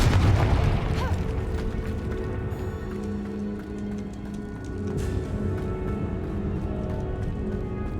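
A Confringo fire spell detonates in the Hogwarts Legacy video game, a deep booming blast at the start that rolls into a sustained rumbling, crackling wash of game sound effects and music.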